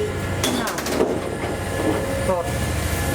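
A Paris Metro train on Line 3bis or 7bis rumbles steadily nearby, with rhythmic wheel clicks, brief squeals and metallic clatter running continuously and fairly loud throughout.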